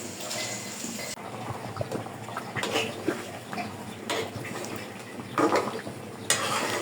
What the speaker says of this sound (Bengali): এখন আমি ঢাকনা দিয়ে ঢেকে দিব।